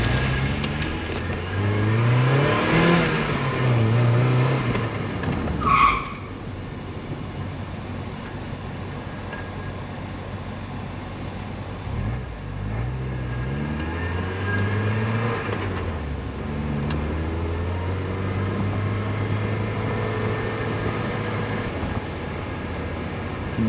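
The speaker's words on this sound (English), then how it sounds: "now I gotta go bed the brakes. So gotta do a couple aggressive decel, moderate decel, and then let them cool" A Mazda Miata driven hard to bed in new brakes, its engine revving up through the gears, easing off under deceleration and then pulling again, loud and close with a steady drone from inside the car.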